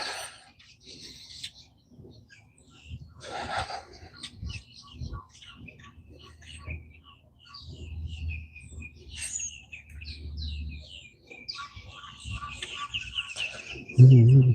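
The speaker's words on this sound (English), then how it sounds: "Oh man, birds are very active this morning." Birds chirping outdoors on a Central Florida morning; sparse, distant tweets and calls scattered through quiet open air, with a few brief louder bird notes and occasional low rumbles.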